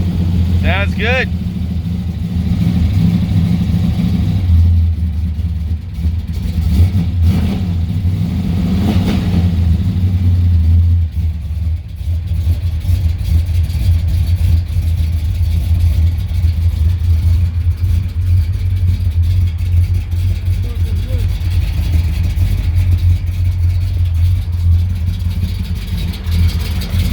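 A 1986 Monte Carlo SS with a fresh 383 stroker V8 idles loud and steady with deep low rumble and occasional revs, people chatting over it throughout.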